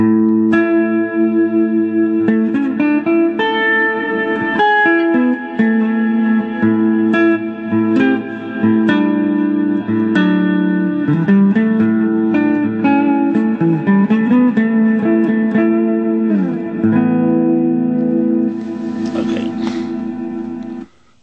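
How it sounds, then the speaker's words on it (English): An electric guitar plays chords and melodic phrases through a Chance amplifier drenched in deep, cavernous reverb, notes ringing and washing into each other. "when you get tired of the cavernous reverb"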